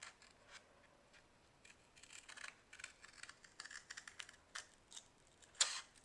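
Quiet, intermittent crisp snips and scratchy rustles of scissors cutting paper, close by, in short irregular bursts with one louder snip near the end.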